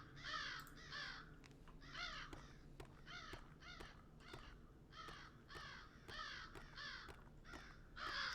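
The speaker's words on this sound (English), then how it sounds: "Oh my god, lots of birds." Crows cawing in a cyberpunk ghost-story video game, a flock giving repeated harsh caws in clustered bursts of two and three, faint and somewhat distant, with sharp ticks and a low hum underneath.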